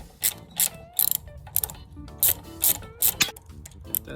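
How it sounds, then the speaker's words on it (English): A 3/8 socket ratchet loosens the carburetor bolts on a Briggs and Stratton 5.5 HP small engine, making repeated short bursts of clicking in close, irregular strokes with quiet gaps between them. "3/8 bolt, or socket, I'm sorry, to pull this carburetor off."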